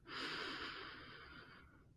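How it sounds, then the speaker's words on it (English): A single deep inhaled breath, close and soft, a smooth airy rush that swells quickly and then tapers off over about a second and a half, heard on its own in a quiet setting. "taking a deep breath, breathing in"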